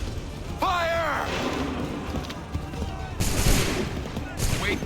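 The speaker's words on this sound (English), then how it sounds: "Open fire." A volley of muskets fires in the game Assassin's Creed 3, sharp cracking shots bursting out in overlapping clusters with shouted voices and battle noise around them.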